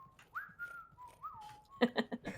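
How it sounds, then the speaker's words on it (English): A player whistles a short tune with rising and gliding notes during a competitive Onward VR match, followed by a few quick bursts of sound, close and clear but fairly quiet. "Oh, he's whistling."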